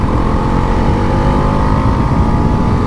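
Bajaj Pulsar NS400z motorcycle accelerating in fourth gear, a loud, sustained engine drone with a steady rising pitch and heavy wind rush, heard from the rider's position.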